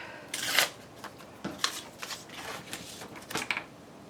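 Hand tearing a piece of paper trim, several short crisp ripping bursts in uneven spurts with quiet gaps between them, close and fairly faint.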